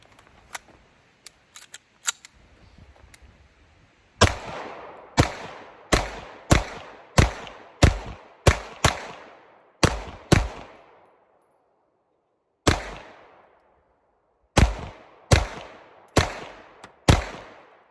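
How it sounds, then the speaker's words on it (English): A Sig P226 Zev pistol fires about fifteen sharp shots at a target 10 yards away, loud reports in quick strings of several with brief pauses, each ringing off, with a few faint clicks and handling noises beforehand. "We're going to kind of take about 15 shots through it at a target about 10 yards away"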